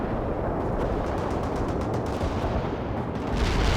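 An artillery barrage in the video game World in Conflict, a continuous, dense rumble of overlapping blasts and booms, loud and unbroken for the whole stretch.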